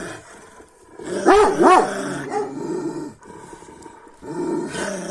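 A dog close by gives low, rising growls and snarls while baring its teeth, in uneven bursts with short pauses between them.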